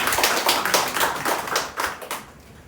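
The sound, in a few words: church congregation clapping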